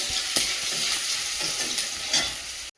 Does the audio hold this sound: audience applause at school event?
no